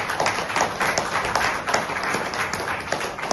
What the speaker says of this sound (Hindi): इसलिए मैं चाहता हूं एक बार खुद के लिए जोरदार तालियां बजाएं